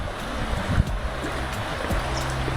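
A river runs beside Antrim Castle Gardens in Northern Ireland, its flowing water a steady, full wash of noise that lasts throughout, with an occasional soft knock nearby.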